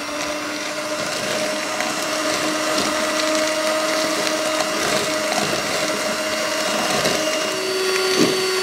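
An electric hand mixer beats egg yolks with granulated sugar for a peanut butter marble cake batter, giving a steady, close motor whir that holds evenly throughout with no pauses.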